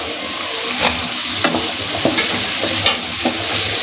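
Jackfruit seeds go into a pan of dried fish cooked down in oil and are stirred in. A loud, steady sizzle runs under repeated scraping strokes of a spoon against the pan, with no voice.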